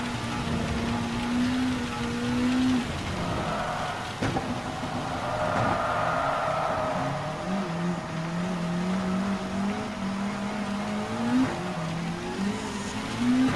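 A racing car in Gran Turismo 7 runs steadily through a hairpin on a driving mission, its engine droning in shifting pitch that dips and climbs as it slows and accelerates, with faint tire noise throughout and no talk.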